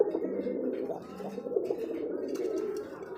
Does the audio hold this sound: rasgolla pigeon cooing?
yes